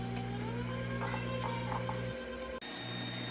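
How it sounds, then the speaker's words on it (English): A stand mixer whips tiramisu cream with a steady, humming motor whine that holds evenly, dips briefly near the end, then resumes, heard close with no talking. "I'm just gonna use my stand mixer because I wanted to do it quick."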